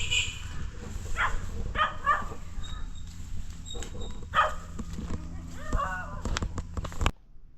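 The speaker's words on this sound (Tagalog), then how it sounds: "Meron din po ditong aso." Several dogs, some roaming loose and some penned or tied up, bark and whimper in bursts amid rustling and outdoor noise, moderately close, while a person talks over parts of it.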